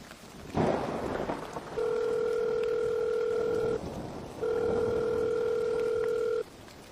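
A phone ringback tone repeats in two long, steady beeps with a pause between, heard clearly after a brief rustle, with no one answering.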